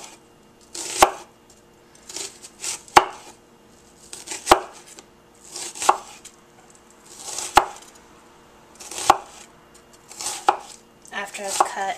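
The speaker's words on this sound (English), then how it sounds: "Okay, so I'm going to be cutting the onion now." A knife chops through an onion on a cutting board in steady, evenly spaced strokes, each a sharp knock against the board, close and clear in a quiet kitchen with no talking.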